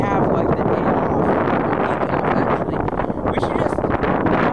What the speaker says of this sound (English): It's windy right now